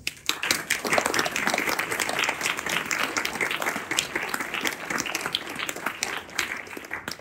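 An audience applauds at a New Year's greetings event for 2024 in France, steady dense clapping filling the room for the whole stretch with no voices over it.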